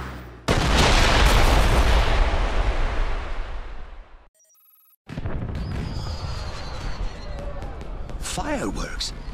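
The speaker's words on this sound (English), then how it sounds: "Did you know there were going to be fireworks?" Fireworks in a James Bond 007: Blood Stone cutscene over the Acropolis: a loud booming burst that roars for several seconds, a brief near-silence, then a further run of crackling pops and whistling trails.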